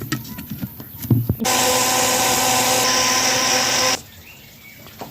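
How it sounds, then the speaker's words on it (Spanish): A blender motor kicks in with a loud, steady whirring roar for a few seconds, then cuts off abruptly, preceded by faint handling clatter. "Ahora ya voy a licuarlo."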